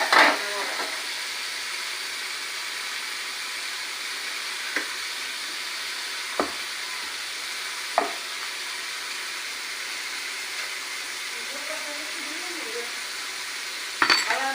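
Taro pieces frying in a pan of hot oil for a Bengali prawn and taro dish. The sizzle is a steady, soft hiss with a few sharp clinks of a utensil against the pan.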